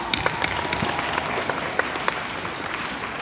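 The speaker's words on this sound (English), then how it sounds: "How about a round of applause for Mark and Michelle?" A large audience at a convention in Salt Lake City claps in sustained, dense applause, loud and close, with a few sharper claps standing out.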